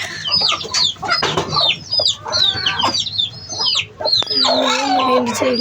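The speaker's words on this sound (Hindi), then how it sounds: "सारी मुर्गियाँ यहीं पे बैठी हैं, मुझसे डर कर, मुझसे बहुत डरती है ये" A flock of hens in a coop clucks and squawks close by, a busy overlapping chatter of calls with sharp bursts, some rising cries and a lower repeated cluck near the end.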